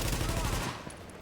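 Automatic rifle with a high rate of fire in The Division, a rapid, loud burst of shots that cuts off sharply partway through, with no talk.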